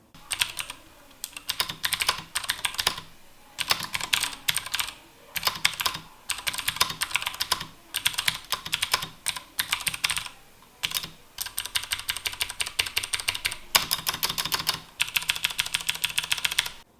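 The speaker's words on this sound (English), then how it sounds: "Here is a bit of typing recorded on my microphone of what it sounds like." Typing on a Ducky One 2 TKL mechanical keyboard with clicky Cherry MX Blue switches, a steady stream of sharp, close keystrokes in bursts with brief pauses, no voices.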